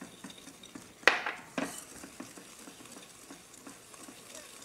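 Egg yolks and sugar stirred in a bowl with a metal utensil, close clinks and scraping strokes with a sharp clatter early on, over a low kitchen background. Nobody talks.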